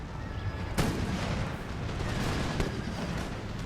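Minutemen fire muskets in an American Revolution battle video game, heard as a continuous rumble of distant gunfire with a sharper, louder report near the start and another shot later.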